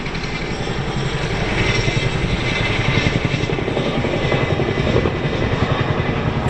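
An RAF 27 Squadron Chinook manoeuvres at the East Fortune airshow, its twin rotors producing a loud, continuous thudding beat with a heavy engine roar that swells slightly as it moves.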